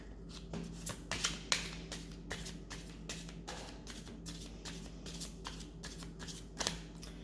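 A deck of reading cards being shuffled by hand, giving a run of soft riffling bursts and taps at a steady pace, faint and close, with a low background hum and no talking.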